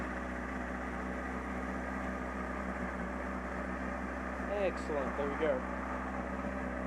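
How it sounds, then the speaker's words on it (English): A Honda CBR600RR motorcycle engine turns over and settles into a steady, low, continuous idle, close by, with someone speaking briefly over it near the end. "Let's try starting the bike."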